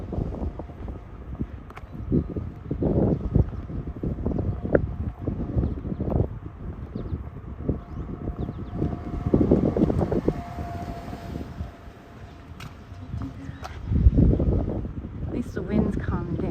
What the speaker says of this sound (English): At least the wind's calming down a little